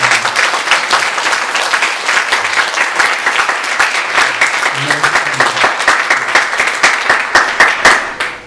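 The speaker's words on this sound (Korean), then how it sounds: "크게 박수를 주시겠습니다." A church congregation at an ordination thanksgiving service breaks into loud, sustained applause, dense clapping from many hands filling the room before tapering off at the very end.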